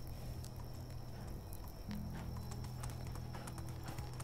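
Horse hooves in the video game Medieval Dynasty clop in a steady, fairly quick rhythm over a droning background hum, close but not loud.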